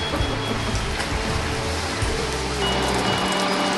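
Steady rain falls at a boatyard as a storm comes in, a dense continuous hiss of drops close by with a low rumble underneath.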